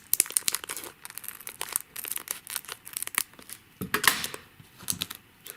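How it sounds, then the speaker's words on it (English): Scissors snip across the top of a 1st Edition Pokemon Gym Challenge card pack, close and crisp, amid repeated crinkling and tearing of the foil wrapper in quick, irregular bursts. "I'm going to make a snip right across the top."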